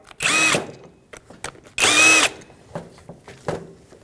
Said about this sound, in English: Remove the 2 bolts using a 14mm socket.